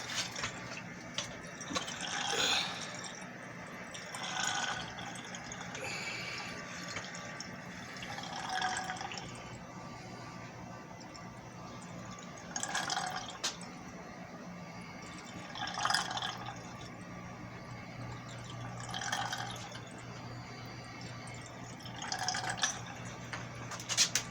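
A Central Machinery 20-gallon parts washer drains through its filter, giving steady trickling and dripping water with intermittent splashy bursts over a low pump hum, heard up close for a long stretch with no talk.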